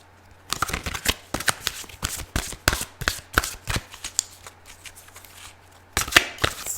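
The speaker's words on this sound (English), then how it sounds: "Let's give it a couple more shuffles." A large deck of Archangel Power Tarot cards riffled and shuffled by hand, with rapid bursts of crisp card slaps for several seconds, a brief pause, then another quick flurry near the end; close and fairly loud, no talking.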